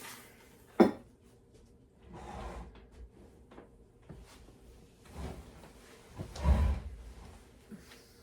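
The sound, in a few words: sheet pan being taken out of a drawer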